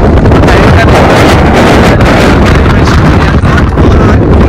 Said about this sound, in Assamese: ইয়াতে বহুত জোৰে জোৰে বতাহ চলি আছে